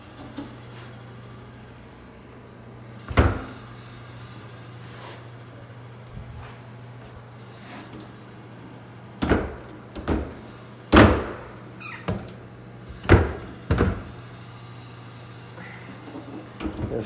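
A door in a bathroom being opened and closed several times, sharp knocks and thuds scattered across a quiet room tone, the loudest clustered toward the end, with no talking.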